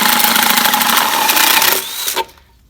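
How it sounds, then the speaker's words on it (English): A power drill fitted with a spade bit bores a hole through a glass bottle, a loud steady grinding whir that lasts about two seconds, then spins down with a brief whine and stops. "So we'll drill the hole, and I'm just using a spade bit on my drill"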